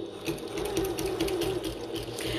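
Sewing machine stitching a bucket tote, a fast steady mechanical whirr with rapid needle ticking, running continuously at moderate volume for a couple of seconds with no talking.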